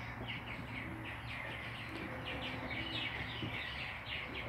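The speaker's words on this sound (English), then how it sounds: "But pigeons are wonderful birds." Pigeons in a loft, including a large blue and white Afghan Shirazi, give faint, repeated chirps and calls over a low, steady hum of background noise.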